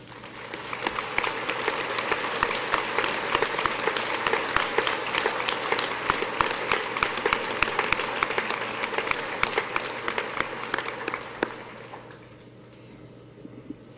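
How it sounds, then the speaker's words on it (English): Sustained audience applause at a December 2014 university commencement ceremony, dense clapping from a large crowd filling the hall for about eleven seconds before fading into quiet room noise. "For all those people I just mentioned who helped with today's production, I ask that they please rise and be applauded."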